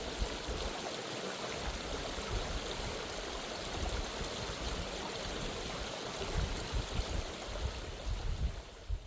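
A creek flows beside a backcountry camp spot in the wilderness, giving a continuous, even rushing and babbling of water at moderate distance, alone with no voices.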